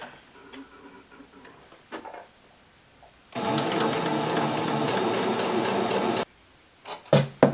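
A sewing machine runs a steady three-second seam down two pinned fabric strips for a table runner, stitching at a quarter-inch allowance, with softer ticks and handling sounds before and after the run.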